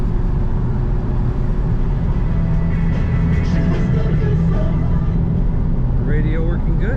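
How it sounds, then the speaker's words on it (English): Inside a 1998 Chevrolet Corvette under acceleration, the engine drone and road roar stay steady and loud the whole way, with faint voice-like sounds mixed in. "Good acceleration in this Corvette."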